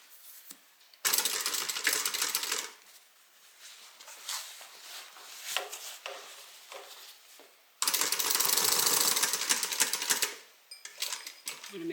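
A sewing machine stitches a bag from the lining side, running in two long loud bursts of rapid mechanical rattling separated by quieter handling noises.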